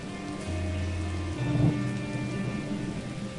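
A thunderstorm with steady rain pattering down and a low rumble of thunder swelling midway, heard over a faint hum of backing music, no voices.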